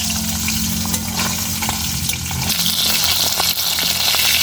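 Koi fish fry in mustard oil, a steady loud bubbling sizzle filling the pan with a continuous hiss close by and no talking.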